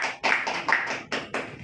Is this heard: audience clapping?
yes